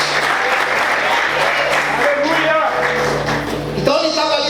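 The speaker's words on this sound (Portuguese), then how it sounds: "Aplauda o Senhor, queridos." A church congregation claps steadily for several seconds while an organ or keyboard chord holds underneath, then a new phrase of music enters near the end and the clapping fades into it.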